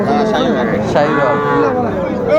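Sahiwal cattle lowing at a busy livestock market, several loud, close moos overlapping one another in quick succession amid crowd noise.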